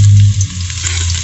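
Garlic hitting hot oil in a pan for chicken curry, a loud burst of sizzling that settles into a steady frying hiss over about a second.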